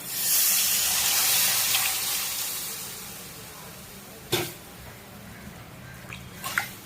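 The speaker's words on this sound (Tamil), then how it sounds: "இப்போ புளி தண்ணி ஊற்றிக்கலாம்." Tamarind water pours steadily into a pan, tapering off to a gentle trickle, followed by a few sharp drips and light sizzling.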